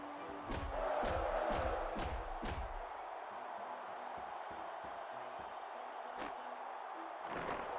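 A capacity arena crowd in the WWE Smackdown vs Raw video game roars in a steady wash of cheering, with a flurry of heavy thuds and slams early on and occasional impacts later.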